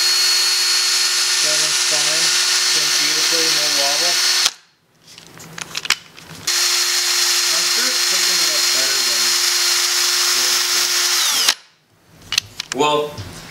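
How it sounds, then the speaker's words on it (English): An engine valve from a 5.3 LS V8 spins in the chuck of an electric drill, giving a steady high whine that runs for several seconds, stops, then starts again, with someone talking over it. "If you're worried you might have a bent valve, just stick it on a drill like so and spin it over."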